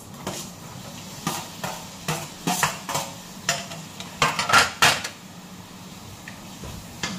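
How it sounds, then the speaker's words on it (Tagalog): Garlic for Chinese noodles browns in a pan with a soft, steady sizzle, while a utensil repeatedly stirs and scrapes against the metal in irregular clicks and knocks, close up with no talking. "Pero i-brown ang atong ahos."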